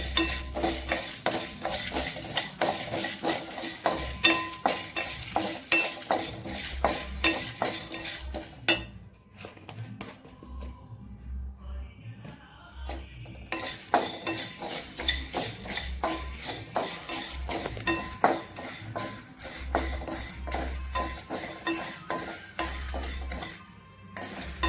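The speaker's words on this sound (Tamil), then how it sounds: "இதெல்லாம் நல்லா வறுத்துடலாம்." Ingredients for temple-style tamarind rice fry in a pan while a utensil stirs and scrapes, a dense close sizzle with rhythmic clinks, broken by a short quieter pause midway.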